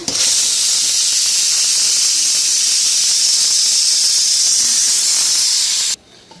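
A pressure cooker on a home kitchen stove vents steam in a loud, continuous hiss that holds steady for several seconds and then cuts off abruptly, leaving quiet room tone.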